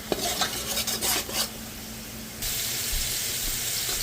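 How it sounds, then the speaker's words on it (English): Green peppers sizzling in a pan with thyme, seasoning, onion and garlic for a sausage seafood paella, with a quick clatter of stirring up front, then a steady close, loud hiss that jumps brighter partway through. "Then I'm adding the peppers."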